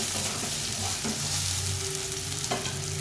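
A dense, steady sizzle of soybean chunks frying in white oil in a wok, loud and close with a faint underlying hum and one small stir near the end, no talking.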